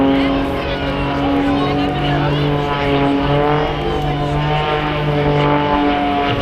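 An aerobatic propeller aircraft hanging at the top of a climb during the Blackpool airshow, with a loud steady droning engine tone over wind, and someone talking over it.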